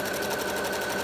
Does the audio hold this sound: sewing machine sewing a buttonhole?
yes